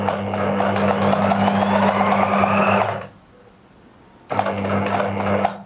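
Sewing machine stitching a coat collar, a loud, steady, close mechanical whir that stops for about a second and then starts up again.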